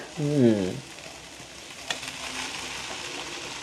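Raw rice noodles being mixed in a hot pan, a soft steady sizzle with faint stirring scrapes, preceded by a short vocal sound and a single light clink partway through.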